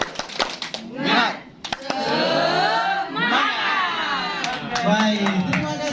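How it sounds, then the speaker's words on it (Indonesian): A group of teachers at a workshop performs the tepuk semangat spirit clap, with rhythmic bursts of clapping mixed with loud group chanting and voices throughout. "Tepuk semangat."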